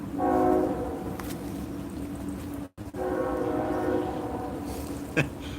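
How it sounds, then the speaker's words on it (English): A train passing through a small historic Georgia town, a sustained horn with rumbling rail cars and faint clacking that runs steadily throughout, heard from the street a short distance away. "You can hear the train in the background."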